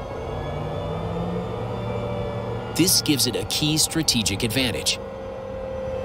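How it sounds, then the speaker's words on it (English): A tank's gas turbine engine drones throughout with a steady whine, a smooth mechanical hum rather than a rumble, while someone speaks over it briefly. "So what you're hearing right now is the turbine sound of the engine."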